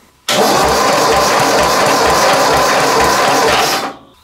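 A Wheel Horse riding mower engine cranks steadily over with the plugs out for a compression test, a loud rhythmic mechanical churn with regular pulses lasting about three and a half seconds before stopping abruptly.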